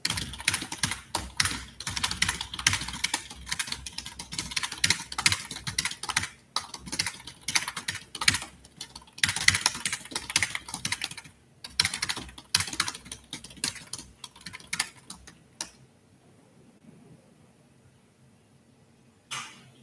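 Rapid, dense typing on a computer keyboard clatters in near, continuous bursts for about fifteen seconds, then drops away into near silence.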